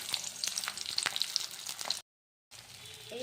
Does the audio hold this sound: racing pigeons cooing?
no